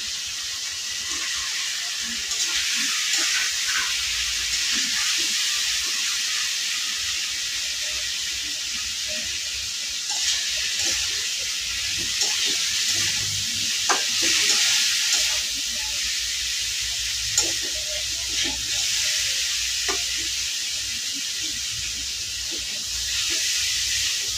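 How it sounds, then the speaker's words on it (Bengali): Fish hits a pan of fried spice paste in a home kitchen and sizzles continuously with a loud, steady hiss, broken now and then by soft pops and occasional faint spoon stirs. "মশলাটা কষানো হয়ে গেছে, মাছটি দিয়ে নিতেছি।"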